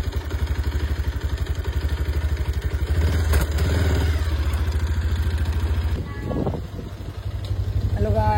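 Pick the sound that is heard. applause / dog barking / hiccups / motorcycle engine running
motorcycle engine running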